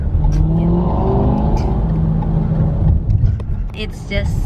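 A Corvette's engine revs loud and close, a steady heavy roar throughout, with people talking over it.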